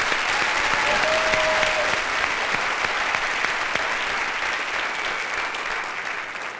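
Steady, even applause from a pageant audience for the contestants at Indiana's Junior Miss 2008, filling the hall at a constant level with only faint crowd murmur beneath.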